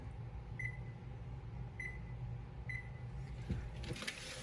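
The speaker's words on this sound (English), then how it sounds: "now here I'm going to put my oven on 325" Oven control panel being set to 325 degrees: three short, high electronic beeps spaced about a second apart over a low hum, then some faint handling noise.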